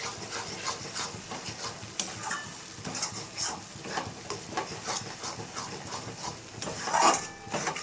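Spices with coriander and red chili powder are sautéed in a pan for an aloo dum curry, a soft, continuous sizzle broken by light rhythmic stirring and scraping strokes, fairly quiet and close.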